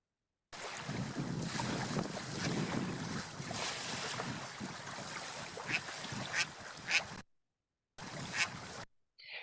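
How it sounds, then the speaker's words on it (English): Ducks quack now and then over steady wind buffeting the microphone and lapping water, outdoors and fairly loud, with a short silent gap near the end. "besides the lovely quacking of the ducks, I've also got like a lot of wind noise and of course the water"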